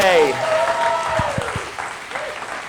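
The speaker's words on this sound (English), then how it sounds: "we should give them a big round of applause before we bring on our next guest, everybody" Audience applause forms a steady, moderately loud wash of clapping beneath a speaking voice, with a few low thumps partway through.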